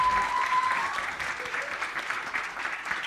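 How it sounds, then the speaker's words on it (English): Audience clapping at a student television awards ceremony in London, a sustained crowd round of applause at steady loudness throughout the moment, no talking. "Give them a round of applause, everybody."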